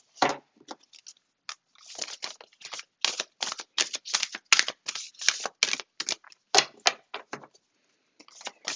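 Tarot cards being shuffled by hand, a series of quick, dry riffling and slapping bursts in an uneven rhythm, close and crisp with short pauses and no talk.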